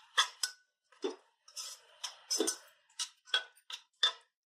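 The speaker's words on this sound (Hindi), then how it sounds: "अब इन्हें भून लेंगे खूब अच्छी तरह" Chopped tomatoes being sautéed with spices and salt in a pan: a steady run of sharp clinks and ticks as a utensil stirs against the metal, with short pauses between strokes and no talk.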